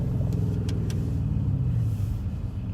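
A Mercedes-AMG GLE63 S driving along, with a steady low engine rumble and road noise throughout and a few faint clicks near the start; no talk.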